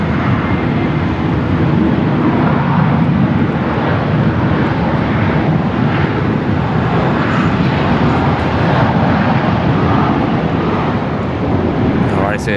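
Emirates Airbus A380 on final approach at Sydney Airport, a steady, loud broadband jet roar that holds throughout, with voices talking over it.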